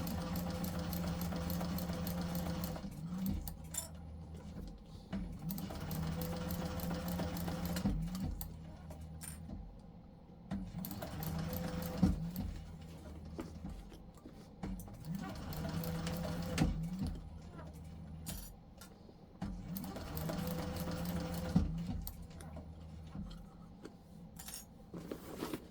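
A sewing machine top stitches a bag seam in several bursts of steady, whirring running, broken by short pauses, with a person talking over and between the stitching.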